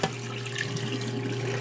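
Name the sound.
pot of water boiling for parboiling potatoes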